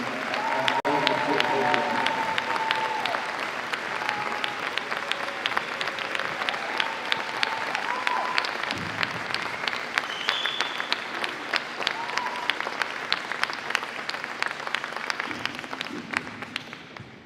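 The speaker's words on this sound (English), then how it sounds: "Please help me give a very warm round of applause for Executive Director Karen Roslowski." Steady, dense applause fills a hall from a crowd at a handball opening ceremony. It stays loud and even throughout, with faint voices and a few tonal sounds mixed underneath.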